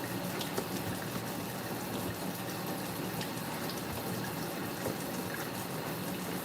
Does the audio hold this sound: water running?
yes